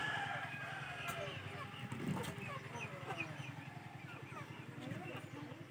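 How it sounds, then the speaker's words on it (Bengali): Chickens at a rural house in the Sundarbans, a rooster crowing and hens clucking at moderate distance, heard under a person talking. "এই যে মুরগি,"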